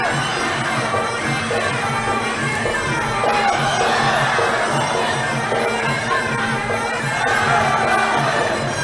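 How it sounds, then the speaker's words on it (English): Stadium crowd at a Muay Thai fight roars and cheers continuously, a dense, loud wash of shouting fans with no break. "And the fans electrifying the stadiums, cheering on Ma."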